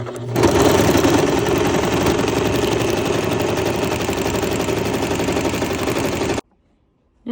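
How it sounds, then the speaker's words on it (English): A sewing machine stitching around bag handles runs in a fast, steady mechanical rattle for about six seconds, loud and close, then stops abruptly into near silence. "I'm just gonna sew all the way around with these bag handles"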